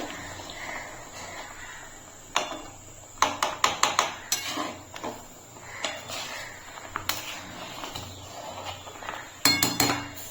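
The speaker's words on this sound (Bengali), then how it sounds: "এখন আমি আস্তে করে হালকা করে একটু সাইডে নাড়িয়ে দেবো" Carrot mixture for carrot rasmalai stirring gently in a pan, heard as repeated scraping clinks and taps of a utensil against metal, in uneven bursts that grow busier in places. The sound is close, with no talking.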